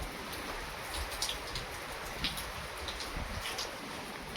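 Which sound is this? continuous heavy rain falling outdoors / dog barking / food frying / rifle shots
continuous heavy rain falling outdoors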